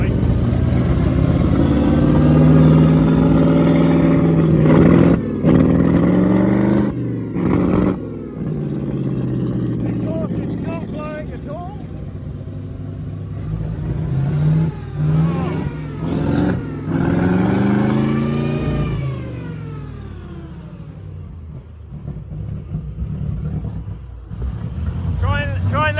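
Alvis Stalwart military vehicle engine running after a start, a loud, steady mid-pitched rumble with rising and falling revs throughout, while someone talks over it.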